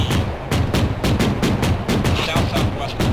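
Rapid, loud, closely spaced gunfire rattles continuously in the combat game ArmA, bursts cracking in near-regular rhythm with a shouted voice briefly mixed in.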